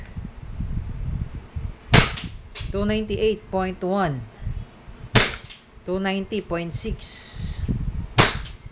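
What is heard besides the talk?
E&C airsoft Glock 19 Gen 5 pistol firing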